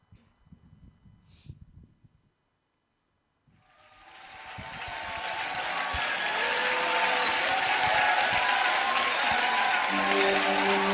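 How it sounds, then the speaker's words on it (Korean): A church youth-service congregation claps hands together in rhythm, the dense, loud clapping swelling in after a brief pause and holding steady, with singing voices and instruments rising underneath. "우리 다 같이 힘차게 박수하면서 찬양하겠습니다"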